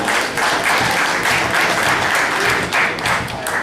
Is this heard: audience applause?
yes